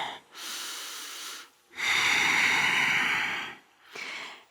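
Slow, deep breaths held during a yoga high plank: three long airy inhales and exhales, close and steady, with no talking over them.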